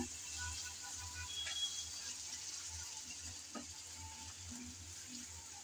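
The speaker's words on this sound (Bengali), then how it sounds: "এভাবে নাড়তে নাড়তে কষাতে কষাতে একদম রেডি হয়ে গেল আমার আজকের এই রেসিপিটা" A curry is stirred and sautéed in a pan, giving a faint, steady sizzle with soft scraping strokes and a few light clinks, alone with no talking.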